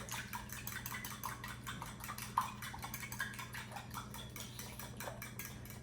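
A utensil stirs blueberry muffin batter in a bowl with rapid, regular scraping and clinking strokes, close and fairly quiet, with one slightly sharper knock partway through.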